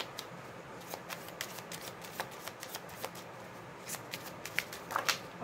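Tarot cards are shuffled in a steady run of soft, crisp riffles and flicks, fairly close and moderately quiet, with a few sharper snaps near the end and no talking.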